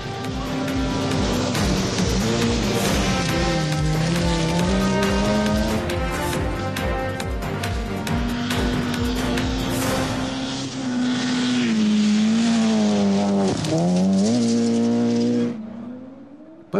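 A Pikes Peak Golf II race car with two engines and 480 kilowatts is driven hard. Its loud, continuous engine roar rises and falls through the gears, with a sharp pitch dip near the end before it cuts off.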